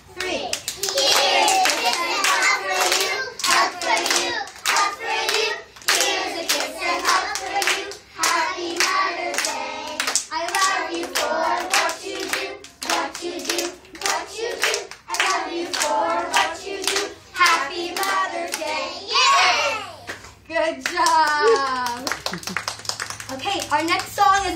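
Children clap loudly and rhythmically along to a song at a Mother's Day concert, steady hand claps keeping the beat beneath young voices singing together.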